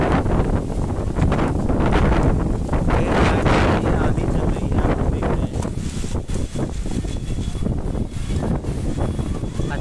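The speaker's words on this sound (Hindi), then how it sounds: "तेज़ हवाएं चल रही हैं" Strong gusty wind in Faridabad batters the microphone with loud, continuous roaring buffets. The gusts rise and fall over several seconds, with no clear voice above them.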